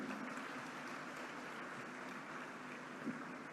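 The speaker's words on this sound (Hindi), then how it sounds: "जाहिर है जब तालियां बज रही हों तो खालिद इराकी साहब के लिए तो फिर जोरदार तालियां होनी चाहिए।" Audience applause fills a university convocation hall, a steady dense wash of clapping from a large crowd, sustained and moderately loud throughout with no speech over it.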